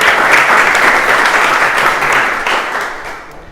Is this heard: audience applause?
yes